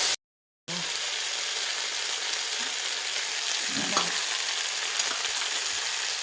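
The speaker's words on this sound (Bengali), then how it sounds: "আবার আমি ভালোভাবে একটু নাড়াচাড়া করে নেব।" Boiled potatoes fry in a pan with a steady, even sizzle after a brief silent gap at the start, with a few soft scrapes of stirring.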